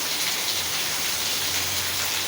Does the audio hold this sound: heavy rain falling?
yes